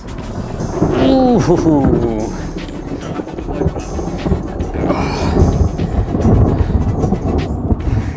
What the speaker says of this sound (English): This storm is right on top of us now.